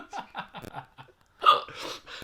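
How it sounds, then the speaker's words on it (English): Several quick hiccups come in a rapid series from a person who has just been laughing hard, with breathy, laugh-like gasps mixed in near the end. "I do have the hiccups."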